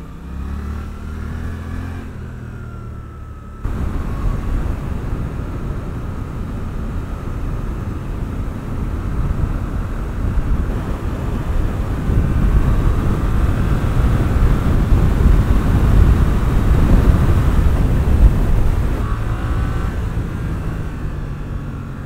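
Suzuki GSX-8S motorcycle engine while riding, a low rumbly note that holds steady and swells gradually louder, mixed with road and wind noise, with no talking.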